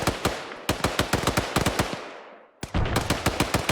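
An M240 machine gun in ArmA 3 fires long, sharp bursts of rapid shots, loud and close, with a brief pause where echoes decay before the rattling resumes.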